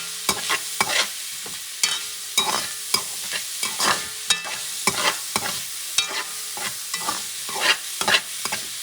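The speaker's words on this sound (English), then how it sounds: "I'm moving things around, mixing everything" Sliced sausages stirred in a pot for Creole shrimp, a rapid series of loud close scrapes and clacks from the spoon over a soft sizzle, irregular but continuous, with no talking.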